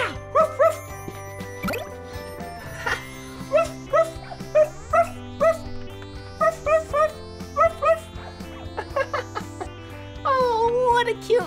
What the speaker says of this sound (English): I spy with my eyes a dog.